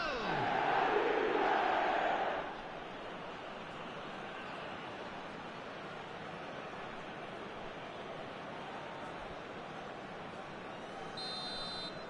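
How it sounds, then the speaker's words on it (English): In eFootball 2025, a virtual stadium crowd swells with a loud cheer for about two seconds, then settles into a quieter, sustained murmur of the crowd that carries on to the end. "Even some of the opposing fans are clapping that."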